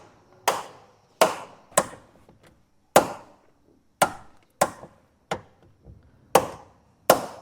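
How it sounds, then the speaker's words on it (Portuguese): A knocking fault in the door of a VW Gol car gives about ten sharp, close knocks. They come at uneven intervals, each a crisp hit with a short decay, and nobody talks. "Hoje eu vou mostrar um problema que está acontecendo aqui no Gol"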